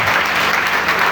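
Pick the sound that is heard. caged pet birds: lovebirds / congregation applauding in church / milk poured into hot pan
congregation applauding in church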